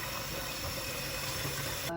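Water pours steadily into a cooking pot for borscht, a continuous even rushing hiss at constant strength with no voices.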